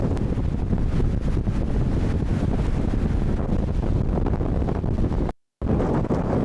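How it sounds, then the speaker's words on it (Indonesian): Strong gusts batter the microphone on Pangandaran's white-sand beach, a loud, steady roar of buffeting wind that runs nearly the whole time, broken only by a brief dropout near the end. "Wih, anginnya luar biasa sekali, guys. Kenceng bingit."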